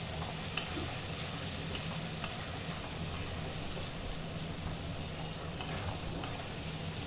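Vegetables such as carrot, onion, chilli and beans stir-frying in a pan for chilli chicken fried rice, a faint steady sizzle with occasional light clicks of a utensil against the pan, no voices.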